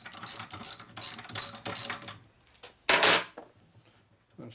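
A wrench ratchets on a jammed bolt of a 1946 Harley Knucklehead stroker motor: quick clicking bursts in a workshop, then a pause, a louder metallic rattle and a few faint clicks, close and without talk.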